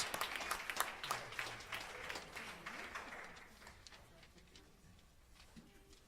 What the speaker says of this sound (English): give all of them and the teachers and the administration a round of applause again